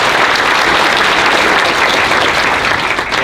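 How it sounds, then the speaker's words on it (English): A crowd at a high school's Evening of Excellence ceremony applauds a scholarship recipient. The clapping is loud, dense and continuous, sustained evenly for the whole stretch with no talking over it. "So round of applause, please."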